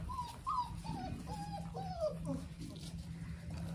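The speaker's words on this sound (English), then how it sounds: "What is he barking at?" A dog on a farm with pigs gives a short series of whiny yips and barks, mid-distance, over a steady low hum and faint background voices.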